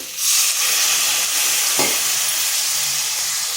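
A splash of water poured onto dry coriander powder and Kashmiri chili powder in a hot pan, for an okra and egg dish, bursts into a loud, sustained hissing sizzle with a brief sharper crackle midway.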